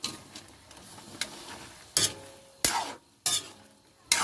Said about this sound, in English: I just need to mix it, flip over.